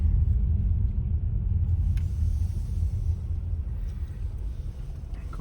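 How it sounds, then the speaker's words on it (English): Steady low city traffic rumble in central Moscow near the Kremlin, a continuous dense drone of engines and tires with no voices, fairly loud and even throughout. "Of course now there's plenty of traffic as we touch the centre."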